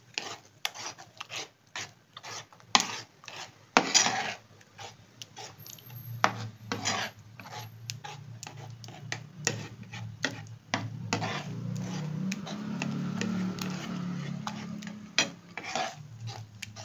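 Egg mixture stirred with milk in a bowl until creamy, heard as a steady run of close, rasping scrapes and light clinks repeating in a brisk rhythm for many seconds.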